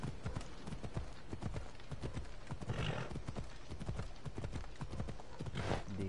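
Horse hooves clip-clop at a gallop in the video game Assassin's Creed Odyssey, a steady rhythmic pounding running throughout with a couple of brief whinnies, fairly close and moderately loud.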